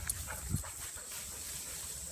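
A dog pants softly and gives a brief whimper close by, a short quiet sound with no talking over it.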